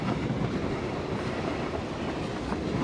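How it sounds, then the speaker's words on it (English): Train passing in the game PUBG on Xbox One, a steady loud rumble with rhythmic clickety-clack of rail cars running continuously throughout, no voices. "I thought I heard a lad, but it's a train."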